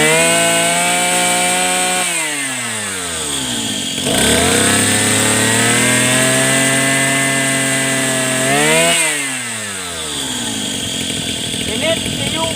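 Mitsubishi TU43 brush cutter engine revving loudly up close, the two-stroke whine climbing and falling through several high-RPM surges, the pitch sliding down between bursts before rising again.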